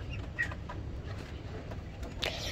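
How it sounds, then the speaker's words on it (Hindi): A sick young chick chirps faintly, a few thin short peeps scattered over a low steady background hum, fairly distant and quiet. "बहुत प्यारा चूजा देखे यार, उसकी तबीयत खराब हो गई है"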